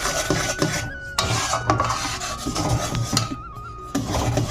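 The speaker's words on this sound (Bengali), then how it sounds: "এরকম আমার অনবরত নেড়ে যেতে হবে" Food is stirred continuously in a pan, producing repeated close rasping scrapes of a utensil against metal in an uneven rhythm over a faint sizzle, with no talking.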